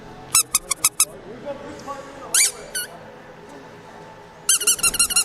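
Tiny whoop racing drones at a qualifying race squeak in quick bursts of high, sharp chirps: a rapid run of five, a short pair midway, then a dense cluster at the end, over a low murmur of background crowd noise.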